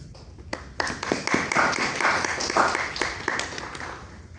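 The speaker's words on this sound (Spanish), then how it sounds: "un fuerte aplauso por favor" An audience at a talk on feline urinary disease gives a short burst of applause, the scattered claps building and then thinning, fairly quiet and close.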